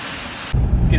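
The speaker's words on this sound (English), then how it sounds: "This should give a good view of Cumberland Falls, and you can also see Eagle Falls" Cumberland Falls in Kentucky sends up a steady, loud hiss of rushing water, a broad noisy roar that turns deeper and rumbling partway through.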